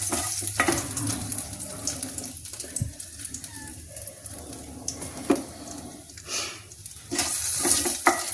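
Whole spices frying in hot oil in a pan while matar ka nimona is being made, with an irregular crackle and sizzle broken by clinks of stirring, growing louder near the end.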